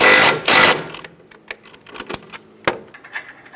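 A hand tool snugs down a brake line bracket bolt on a 2010-2014 Subaru Outback during front CV axle replacement. A loud burst of noise gives way to a run of quick, uneven ratcheting clicks, close by.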